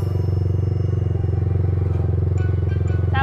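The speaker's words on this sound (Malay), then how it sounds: "Masuk gear Aisyah" Motorcycle engine idling and running steadily during a riding lesson, a close, even rumble with rhythmic pulsing, while voices talk over it near the end.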